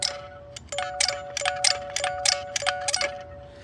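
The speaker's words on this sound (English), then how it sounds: "But then the doorbell, let's see if you can hear that." A mechanical, non-electronic doorbell from a 1980s Transformers toy rings out in a quick run of bright, tinny chimes and clicks, about a dozen close strikes in an uneven rhythm.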